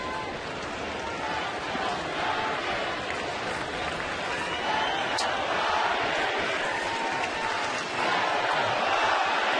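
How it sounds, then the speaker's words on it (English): Crowd of Rockies and Giants baseball fans cheering at a ballgame, a steady broad roar of noise and applause holding throughout, fairly loud and continuous with no clear single voices. "Battle of the fans, the Rockies and Giants fans with their cheering."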